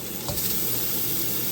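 Chinese-style pork ribs frying in a wok, a continuous close hiss and crackle of hot oil with a faint stirring clatter near the start.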